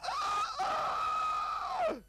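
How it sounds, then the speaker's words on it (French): A rooster gives a single long, strained crow that rises sharply, holds a high tone for over a second, then drops away, loud and close with no other sounds. "le coq commence à crier"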